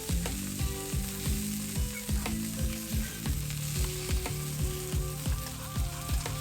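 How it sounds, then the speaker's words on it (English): Sausages sear in a hot pan over medium heat, giving a steady loud sizzle and crackle with frequent bursts of spattering fat, and no voices. "you're just gonna add the sausages to the pan, and you're just gonna cook these on medium heat"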